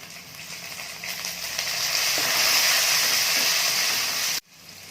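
Onion and tomato sautéing in a pan for masala bread upma, a dense close sizzle that swells and holds steady with faint stirring scrapes, then cuts off abruptly near the end and settles to a quieter hiss.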